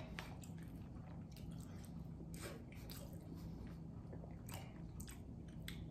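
Close, quiet sounds of someone eating rice and beans, with soft wet chewing and squishing bites coming in irregular bursts over a low background hum.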